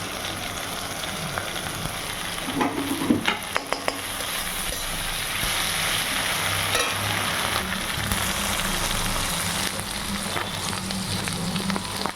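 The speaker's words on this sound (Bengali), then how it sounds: "কাঁচা লঙ্কা কুচি দেব জিরা আদা বাটা সবগুলো দিয়ে আর একটু কষিয়ে নেব" Close, steady sizzling of chopped green chilli, cumin and ginger paste frying in a pan for Bengali muri ghonto, with a few metallic spatula scrapes and clinks as the mixture is stirred.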